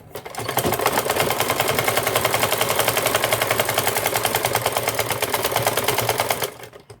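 Sewing machine running a long steady seam on a gown, a fast, even mechanical rattle of stitching that holds for several seconds, then stops; no talking.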